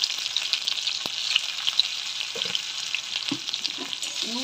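Chopped tomato and turmeric go in with browned onion frying in a pan for masoor dal with egg, a soft steady sizzle broken by a few scraping stirs, no voices.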